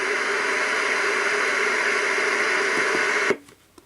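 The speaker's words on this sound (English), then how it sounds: "And the strange white noise." A Medisana WL444 wake-up light plays its white noise sound, a loud, even hiss held for over three seconds before it cuts off abruptly into near silence.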